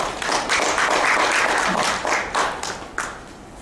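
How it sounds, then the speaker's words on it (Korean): Lecture audience applauding in a college classroom, a steady wash of handclaps across the whole stretch with a few sharper individual claps near the end as it tapers off. "이럴 때 박수 한번 주시면 좋습니다"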